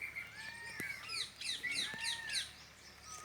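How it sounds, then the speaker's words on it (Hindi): Several birds call near and far, a string of bright chirps and whistled notes in quick, irregular bursts over faint background hum, with no voices. "अन्य पक्षियों को बुला रहे हैं"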